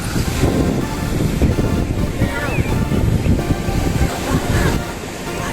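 Ocean surf rolling onto a clean, uncrowded sandy beach, a continuous loud wash of breaking waves with steady wind buffeting the microphone.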